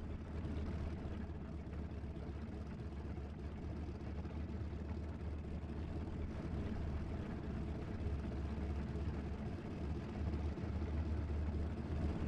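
Wellington bombers' piston engines idle and rumble steadily at a desert airfield in a Desert Wings Tobruk flight simulation, a constant low drone that stays even throughout with no voices.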